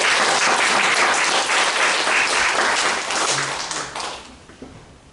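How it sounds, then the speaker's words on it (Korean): A church congregation at a Sunday worship service claps together in a dense, steady burst of applause that holds strong for several seconds, then thins out and fades toward the end. "박수 한번 보내주십시오."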